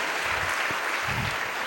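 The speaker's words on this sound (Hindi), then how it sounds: "आप लोग ताली वाली बजाते हैं कभी कभी?" An audience claps at an induction program in an auditorium: a dense, steady burst of applause from many hands, loud and close, lasting the whole short moment.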